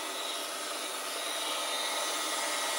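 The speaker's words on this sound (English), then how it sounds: "here again I'm using a ball mill, and I'll just bump up against the stop from one side to the other and work my way down through the plastic" A ball end mill cuts clearance slots through a plastic block on a milling machine, a loud, continuous, close whirring grind with no pauses and no voices.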